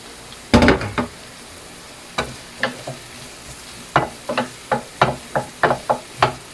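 A soft sizzle of frying in a pan cooking garlic and onion for menudo, broken by sharp knocks and scrapes of a utensil against the pan, coming in an irregular run of close, distinct hits.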